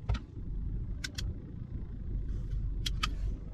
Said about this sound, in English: I can hear the sound that the electric parking brake is working properly.